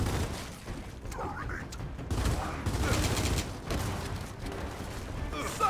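Gunfire in the Gears of War 4 campaign, dense overlapping bursts of shots and mechanical clatter running throughout at steady loudness, with game effects layered in.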